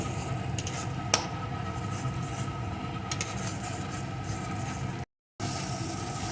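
Onion paste sizzles steadily in a pan for a prawn malai curry, a dense continuous frying hiss close up with occasional scrapes and light clinks of a spoon stirring it.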